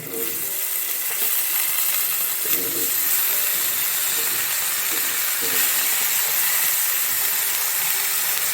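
Potato and carrot chunks sizzle in a pan of browned onion paste for a curry, a steady close hiss of frying with faint clatter and soft movement underneath.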